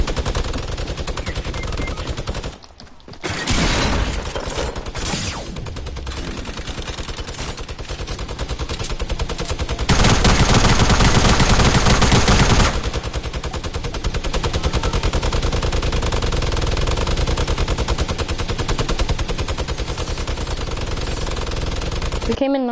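Light machine gun fire in a large 50-versus-50 video game match rattles in dense, sustained automatic bursts. It has a brief lull early on, then grows heavier and louder midway before continuing nearly to the end.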